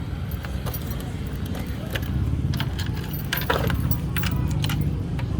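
A bunch of keys jangles close by as a Suzuki Smash motorcycle with hard-starting trouble is started. The metallic rattling repeats over a steady low engine or motor rumble, and a voice can be heard faintly underneath.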